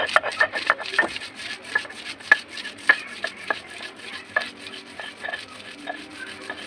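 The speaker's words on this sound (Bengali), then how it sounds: "মাছ দিয়া আদা বাটা করবো" Ginger being ground into a paste with fried fish on a stone gives a series of close, irregular rubbing and knocking strokes, sharp scrapes spaced unevenly over several seconds.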